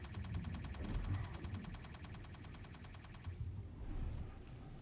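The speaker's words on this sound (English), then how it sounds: "Suppressive fire!" Rapid automatic gunfire in a video game, a fast, even stream of shots at moderate distance that stops abruptly, then a few rumbling bursts follow.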